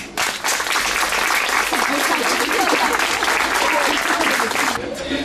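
Sustained applause from a crowd at a retirement home fair honoring the care staff, dense and loud for several seconds before tapering off at the end.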